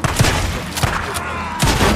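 Rapid gunfire in the zombie-shooter video game Days Gone, several loud sharp shots in quick bursts over a dense, busy game soundscape.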